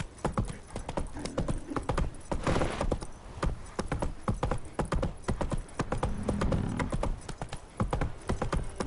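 Hooves of Roach, the horse in The Witcher 3, beat in a fast galloping rhythm, close and steady throughout, with faint game ambience behind.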